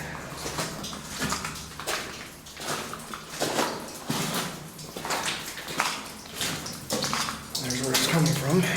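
Rusty, iron-rich spring water runs and splashes through a flooded underground mine adit tunnel, a continuous close rushing wash with uneven surges and echoing drips.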